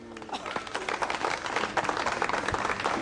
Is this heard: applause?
yes